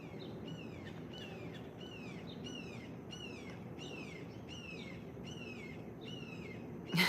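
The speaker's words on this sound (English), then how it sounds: "But this is about the time that all the birds start coming out." Several birds sing on a morning walk, a repeated series of bright, descending whistled phrases coming roughly every half second, fairly close and clear over a low steady outdoor rumble.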